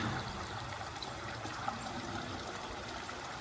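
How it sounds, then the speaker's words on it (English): Soft, steady running water trickles and splashes continuously in a pond in the background, faint and even throughout, with no talking. "Now we have the sound of water again here."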